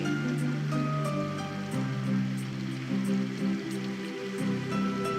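Rain falls steadily in the visual novel game Symphonic Rain, a continuous wash of downpour blended with sustained musical tones and soft periodic ticks, with no speech.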